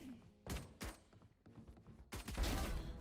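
Gunfire in the video game Valorant comes as short bursts of rapid shots, fairly faint and distant, separated by brief pauses.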